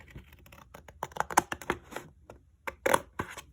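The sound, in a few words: scissors cutting folded paper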